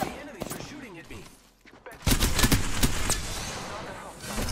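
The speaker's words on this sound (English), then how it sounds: "The enemies are shooting at me." Rapid bursts of gunfire crackle from enemies in the Apex Legends video game on PS4, with dense repeated shots growing louder in the second half while someone talks over the action.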